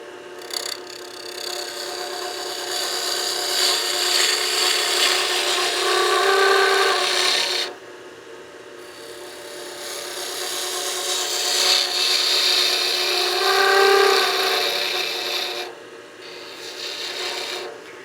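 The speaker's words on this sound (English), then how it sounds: "I'm going to go to my spindle gouge and start radiusing the end of the handle now." A spindle gouge shapes the rounded end of a wooden handle on a lathe, giving a rough, scraping, rasping cut in two long passes with a short quieter pause between them.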